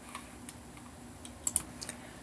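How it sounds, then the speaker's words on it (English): Typing on a computer keyboard while entering a school header in Microsoft Excel: soft, scattered key clicks at an irregular pace, with a couple of slightly sharper taps, quiet against faint room hum. "I'm going to actually start typing my school's header right here."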